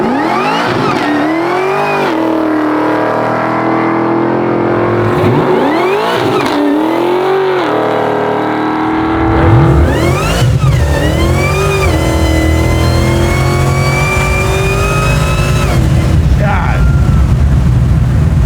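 A supercharged 760-horsepower 1969 Chevrolet Chevelle revs and launches hard, its engine note sweeping up through repeated rising pulls, then tires spin and roar as the car accelerates away loudly, with people talking nearby.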